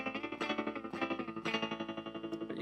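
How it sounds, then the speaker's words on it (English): Vox Starstream guitar modeling amp's repeater echo set to its fastest speed, a sustained electric guitar chord pulsing in rapid, even hard-edged repeats, close and fairly loud with no talking. "Now the repeater is like a hard knee echo"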